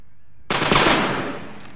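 A single sharp rifle volley fired during a close order rifle drill cracks out suddenly after brief quiet, then decays with a short rolling outdoor echo.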